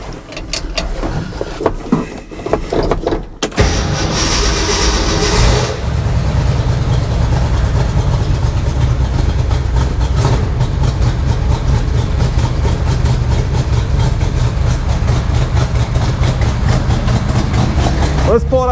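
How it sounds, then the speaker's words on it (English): Ford F100 pickup truck engine on a cold day, a burst of cranking giving way to a steady, loud, rumbling idle that runs on close by, with some speech near the start. "Let's fire up the truck."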